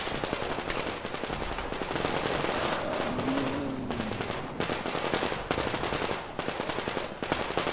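Dense automatic gunfire rattles without pause in the first-person shooter Metro Exodus, loud and continuous throughout, with no speech.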